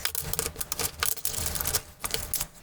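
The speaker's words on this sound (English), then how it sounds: "we're going to take the remaining swamp tiles and shuffle them back into this stack" Cardboard Cloudspire board game swamp tiles clack and rattle as they are shuffled into a stack, a rapid irregular run of sharp clicks close by with no talk.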